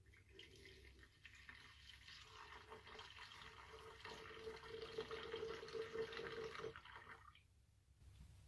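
Water poured into a container for cold process soap, a steady running, trickling fill lasting several seconds at close range, growing slightly louder before stopping abruptly near the end.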